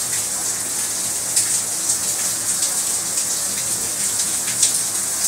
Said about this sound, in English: I'm recording this video in rainy season, so that's why you can hear some little noise of the rain.